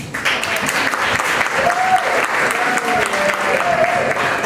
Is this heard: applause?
yes